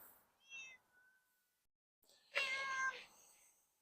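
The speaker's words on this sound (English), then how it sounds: "Look, we have a pussy cat." A collared cat meows on a downtown city street in Regina, giving a short faint mew, then a louder, longer drawn-out meow close by after a brief pause.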